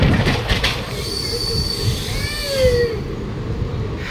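The Black Diamond Express, running from Howrah to Dhanbad near Asansol, rumbles along the rails while its wheels let out high, drawn-out squeals that rise and fall, loud and close.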